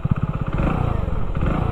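A Hero Splendor Plus base model motorcycle fires up on its electric self starter, a rapid chugging crank that settles into a steady, close, low-pitched engine running.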